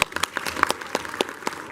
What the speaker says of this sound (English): By round of applause, clap if you think Cap's going to die.